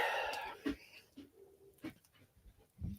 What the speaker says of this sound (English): she's up barking at the dog on the TV